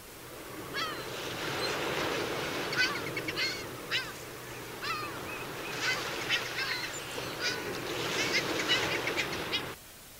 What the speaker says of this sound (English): Heerman's Gull.